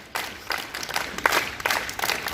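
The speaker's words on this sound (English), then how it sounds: "Clap together." Schoolchildren clap together during a morning school assembly, many hands striking in loose rhythmic bursts that blend into a roomy crowd clatter, moderately loud and continuous.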